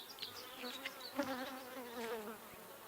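Honey bees buzz around an open hive full of nectar-laden frames, a soft, wavering drone with pitch rising and falling as individual bees pass close.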